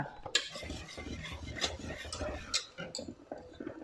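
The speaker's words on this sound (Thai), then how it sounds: "ตีส่วนผสมทั้งหมดให้เข้ากันนะคะ" A whisk or spoon clinks and scrapes in a bowl, beating batter for a Thai pumpkin-filled dessert, with irregular rhythmic taps and brief sharper clinks under quiet close handling.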